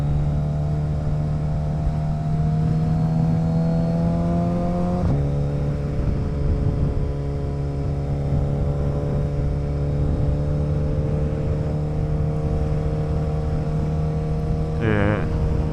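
Motorcycle engine droning steadily while cornering on a road, with a sharp auto-blip rev as the bike downshifts about a third of the way in and a brief rising whine near the end, loud and close throughout.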